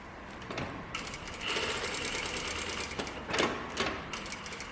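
Sewing machine stitching a button-up shirt collar, its rapid mechanical clatter running in short bursts with brief stops where the foot is lifted and the fabric pivoted, close and fairly quiet.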